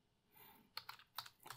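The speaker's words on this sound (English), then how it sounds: "we're going to have to type one command right here" A few quick, faint keystrokes on a computer keyboard, a short cluster of soft clicks close by after a quiet moment.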